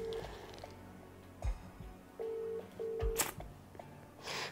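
An unanswered outgoing telephone call: short electronic ringback tone bursts repeat at a steady pace, with a few brief clicks and thumps between them and no voices.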